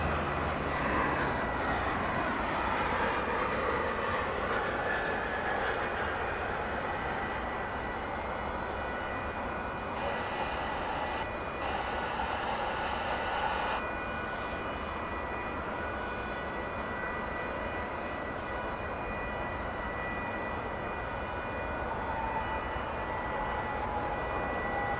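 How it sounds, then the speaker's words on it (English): A Boeing 757 airliner arriving at the terminal at DFW Airport gives off a steady, loud, broad engine roar that holds for the whole stretch, with a faint high whine and no voices. "757 arrives at the terminal."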